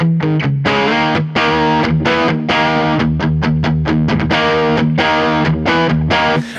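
Electric guitar through a Klon clone overdrive pedal, a steady run of loud, bright overdriven chords and choppy strums with brief breaks, continuous throughout.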